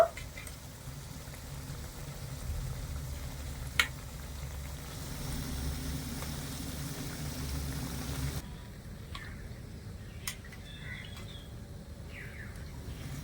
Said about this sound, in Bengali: এবারে লালচে করে ভেজে নেব